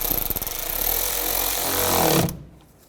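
A power tool drives screws into the intake duct of a 2005–2010 Volkswagen Jetta: a close, loud buzzing whir with rapid pulsing at first, steady grinding, then it stops abruptly into quiet.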